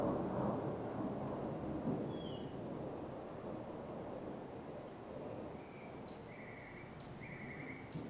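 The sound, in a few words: thunderstorm with thunder and rain in Florida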